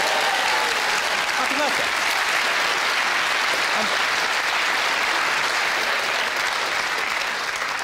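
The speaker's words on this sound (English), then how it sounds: "Let's give him a round of applause." Comedy club audience breaking into sustained applause at a stand-up show, dense and steady clapping filling the room for several seconds, with a brief spoken birthday greeting over it at the start.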